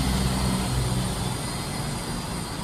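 A drone flies overhead above a garden, its loud whirring motor and propeller buzz holding steady and close throughout, with no talk.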